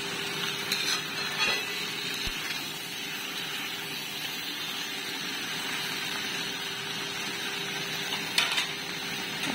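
Spatula stirring ash gourd pumpkin with local chicken in a hot pan: a continuous soft sizzle of frying, broken by occasional scrapes and clinks of the utensil against the pan, close by with no talking.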